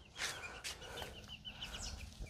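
Young black-feathered hens, about two to three months old, cluck in a small garden: a few short, close clucks in quick, uneven succession.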